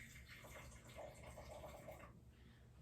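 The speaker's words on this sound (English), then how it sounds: "to be safe while I'm pouring this hot water, I'm going to put it in the sink" Hot water poured into a glass jar set in a sink, a faint, steady splashing fill lasting a couple of seconds before trailing off.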